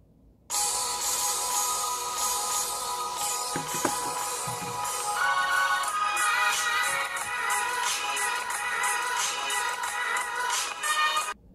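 A music track plays through the speakers of a Sony Xperia XZ2 phone, a steady, fairly loud stream of melody heard alone for about eleven seconds.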